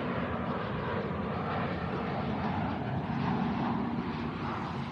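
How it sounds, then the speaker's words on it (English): An airplane coming in to land roars steadily and loudly overhead, a broad continuous drone with no break. "oh, there it goes, the airplane."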